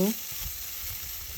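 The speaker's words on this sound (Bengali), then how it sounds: "দিয়ে দিলাম দুই তিনটা কাঁচামরিচ কুচি এগুলো একটু ভেজে নিব" Chopped onion, ginger and green chilies fry in a pan with a steady close sizzle that runs from start to finish without a break.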